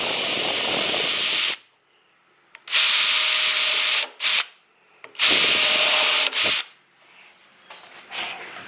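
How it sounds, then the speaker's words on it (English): A power drill pre-drills holes in wood for cornhole board legs, running in three loud sustained bursts with short pauses between them, then a fainter brief whir at the end. "pre-drill a couple holes here."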